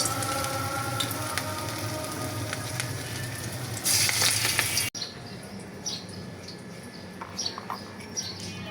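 Onion fritters mixed with chopped thankuni (Indian pennywort) leaves fry in hot oil with a close, crackling sizzle that swells briefly. The sound then cuts to a quieter scene with scattered bird chirps and faint frying.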